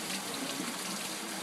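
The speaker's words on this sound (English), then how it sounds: "And the water's still filling up inside here" Water fills up inside a unit with a steady, close, continuous rushing hiss, like a running tap, and no other sound breaks in.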